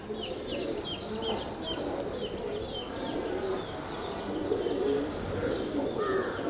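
Punjabi Malwai pigeons cooing in a steady low murmur throughout, with scattered chirps and tweets from other birds overhead, a busy continuous outdoor flock sound.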